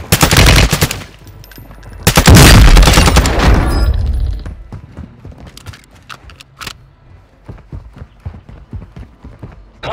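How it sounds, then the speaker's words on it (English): Horse hooves clatter in Call of Duty: Modern Warfare II amid heavy bursts of gunfire, loud rapid volleys early on giving way to a rhythm of distinct, fairly close hoof strikes. "Hostile horse right near your position."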